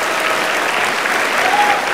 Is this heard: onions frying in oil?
no